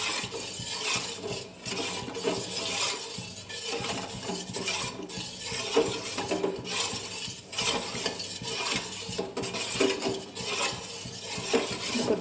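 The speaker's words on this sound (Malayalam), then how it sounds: "സ്റ്റവ് കത്തിച്ചാൽ അപ്പം തന്നെ ഇളക്കണം." A spoon scrapes and stirs a wheat mixture in a pan on a lit stove, giving a steady rhythmic scraping and clinking, heard close and alone without speech.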